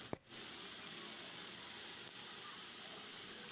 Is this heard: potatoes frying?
yes